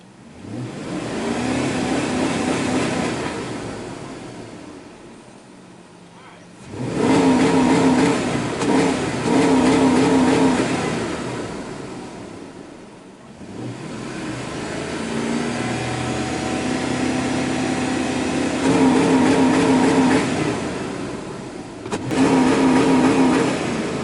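Dodge truck engine idling and revving repeatedly while it refuses to stall, with loud throttle bursts that swell and drop back to a steady idle several times, close by and without talking.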